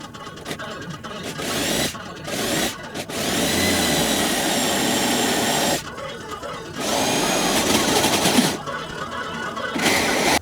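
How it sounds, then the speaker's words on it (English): A power drill whirs in several bursts, drilling holes in a Volkswagen for self-tapping screws, long steady runs separated by short pauses and rattling handling noises, close and loud. "So let's go ahead and get to drilling."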